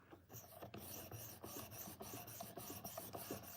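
Steel knife blade drawn repeatedly across a sharpening stone, steady rhythmic rasping strokes at a regular pace, close but quiet, with no talking.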